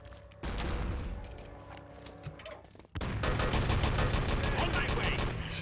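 Machine gun fire in the Enemy Territory shooter game, a dense burst of rapid rattling shots that swells loudly after a quieter stretch of scattered gunfire and game noise.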